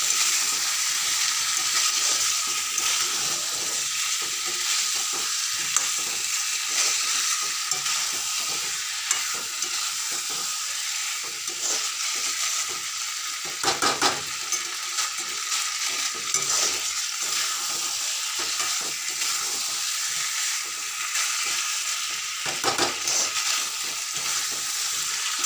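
Egg curry masala with turmeric and a splash of water sautéing in a pan, a steady, close sizzle and fry running throughout with occasional scraping stirs, no voices.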